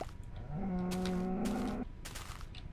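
A cow in Minecraft gives one drawn-out, loud moo with a rising pitch that ends abruptly, followed by faint game noises.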